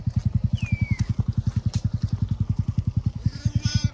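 A motorcycle being ridden slowly gives a close, rapid, evenly spaced thumping exhaust beat. The beat continues steadily throughout, with a brief high chirp above it early on.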